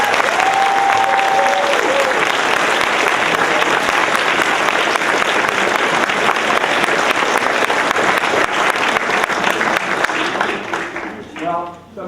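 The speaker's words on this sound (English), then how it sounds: "please indicate by your applause your appreciation for these finalists" A large audience at a spelling bee gives long, loud, dense applause for the finalists, with cheering voices, a whistle and crowd noise before it dies away.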